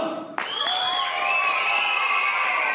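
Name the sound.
students cheering at a math competition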